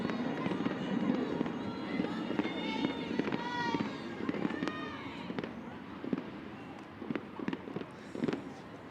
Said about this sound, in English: Just when you thought it was the finale, it's like we get another finale of the fireworks.